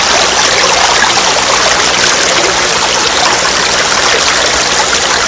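Steady river water rushing and churning near a mountain farm, continuous and loud with no pauses and no voices.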